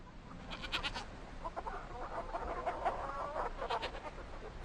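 Hens pecking and scratching in a farm garden alongside a goat, clucking in quick soft bursts at moderate distance over a low background, with no voices.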